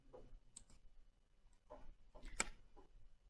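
A computer mouse clicks on an OK button in CG100 III mileage repair software, a few faint, short clicks scattered over a quiet background.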